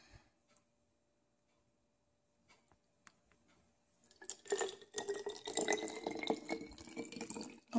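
Cooled boiled water is poured into a container to make a homemade eye makeup remover. After a few faint clicks, a close steady pouring trickle begins and rises in pitch as the container fills.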